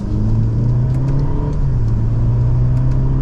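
The engine of a 2024 Mercedes-Benz E350 sedan, heard from inside the car while driving, gives a loud, steady low drone with a rising hum as it pulls under acceleration, alone with no talk.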